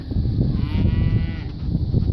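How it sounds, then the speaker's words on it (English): Young ranch cows in a pen, one close drawn-out moo over a low shuffling, rumbling herd background, no talking. "A lot of young cows in here."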